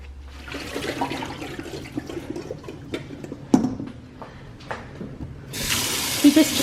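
Tap water runs and splashes as the soaking water for peeled potatoes is changed in a home kitchen, with clattering handling sounds over a steady flow and a louder gush near the end.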